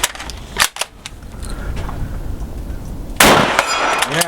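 A French MAS-36 rifle fires at an outdoor range, with a sharp loud crack, a metallic ring as the round strikes and spins a steel target, and a second blast later.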